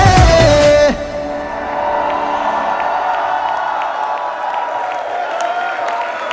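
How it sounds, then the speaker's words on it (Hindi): Audience at a sangeet night in Dubai breaks into applause and cheering, a loud burst of music ending in the first second before steady clapping and whoops carry on at moderate level with occasional shouts. "एक बार फिर से जोरदार तालियां।"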